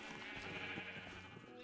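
Minecraft sheep bleating in a game world, a wavering, nasal cry sustained for under two seconds at moderate level, with faint low game ambience beneath.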